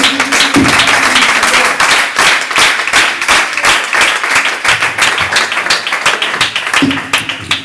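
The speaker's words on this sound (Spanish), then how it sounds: "este sacrificio que hizo nuestro Cristo se merece un fuerte aplauso" A church congregation breaks into loud, sustained applause, dense overlapping claps close by with sharp individual hits and a few brief vocal bursts.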